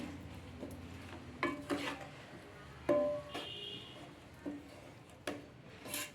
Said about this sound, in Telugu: ఇప్పుడు అంతా బాగా కలిసేటట్టు కలుపుకోవాలి